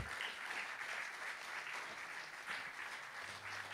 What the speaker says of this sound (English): I think another round of applause is due